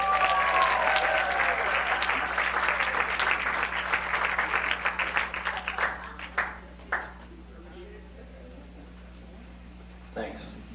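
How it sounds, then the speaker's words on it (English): Audience applause at a 1997 church ward talent show, a dense wash of clapping that swells loud for several seconds, then thins into a few scattered claps and fades, with voices mixed in. "Everyone give it up for Stephen Wright."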